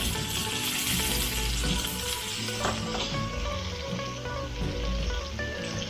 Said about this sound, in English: So yeah, once again, got these squashes cooking.